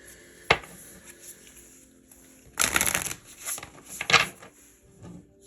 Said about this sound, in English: Let's pull some Moonology cards.